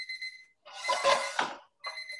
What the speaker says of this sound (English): The timer is giving me that we have to take off the lid from the